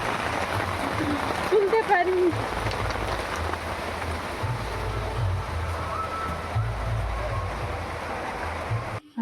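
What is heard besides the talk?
rain falling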